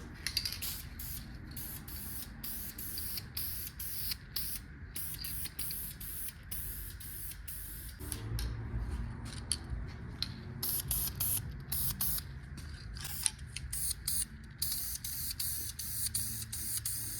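Aerosol spray paint hisses onto Ford 351 modified 2V cylinder heads for a 1978 F100, in long close bursts broken by brief pauses, with no talking.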